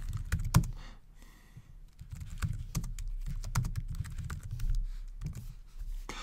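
Rapid keystrokes on a computer keyboard while entering C++ code, a steady run of close, crisp clicks with short pauses between bursts.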